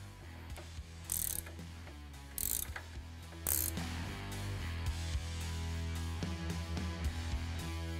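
A hand ratchet clicks in quick rhythmic bursts as it tightens clamps on a truck's steering drag link during a Steer Smarts XD drag link and tie rod install, with a few sharper metallic clanks between the pulls, no talk.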